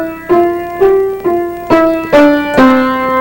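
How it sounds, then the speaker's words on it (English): A beginner plays a piano scale unevenly, six separate notes struck at irregular intervals with uneven loudness, each ringing clearly and alone at close range. "So when you play a scale, it might sound like this the first time."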